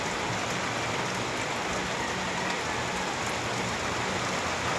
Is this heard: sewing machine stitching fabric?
no